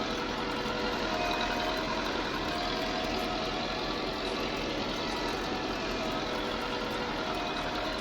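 A 1966 Massey Ferguson 165 tractor engine doing heavy work, a steady, dense diesel rumble held at constant load throughout, close and alone with no talk.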